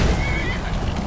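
A horse in the Skyrim video game gives one short, close whinny that lasts only a moment.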